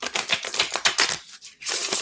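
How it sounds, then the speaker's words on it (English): Oracle cards are shuffled by hand in quick, papery flicking bursts, close and crisp, with a short pause before a final riffle. "One more shuffle."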